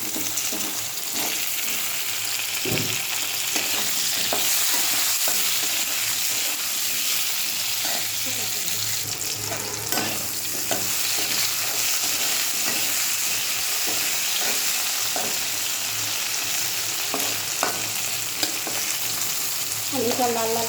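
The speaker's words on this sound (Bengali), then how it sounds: "আলুটা লাল লাল করে ভাজা হয়ে গেছে" Potatoes and browned onions sizzle steadily in a hot pan for a long stretch, broken by repeated scraping and clattering strokes of a spatula stirring them, close and continuous with no speech.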